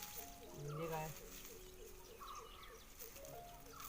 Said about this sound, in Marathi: पक्ष्यांचा आवाज छान येतात ना